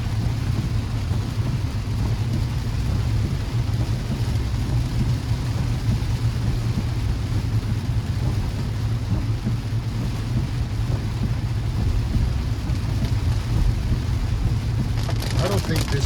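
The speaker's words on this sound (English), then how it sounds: "Oh God, look at all this rain." Heavy rain pounds steadily on a car driving through Little Havana in Miami, a dense continuous roar with low road rumble underneath, close and unbroken throughout.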